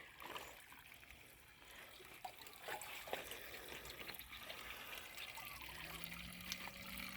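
Water trickles and splashes steadily into soil at close range, with a faint low hum in the background.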